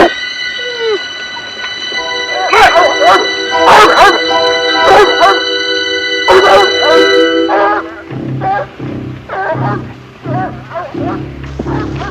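Hounds bark loudly and repeatedly in a chorus of sharp, echoing bays, followed by lower, rougher barking and yips that continue near and insistent with a voice briefly mixed in.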